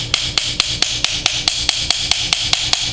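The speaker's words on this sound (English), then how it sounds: "I've been tapping this plug in a little bit deeper, just tapping it in until it's going to be flush with this edge here" Metal file used as a hammer, tapping a plug into a fire piston cylinder: a steady run of about a dozen sharp, evenly spaced metallic taps, close and loud, with no talk.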